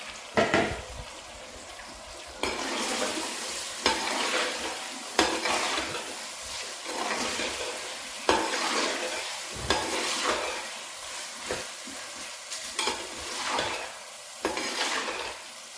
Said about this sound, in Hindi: अब इसमें आलू डाल देंगे।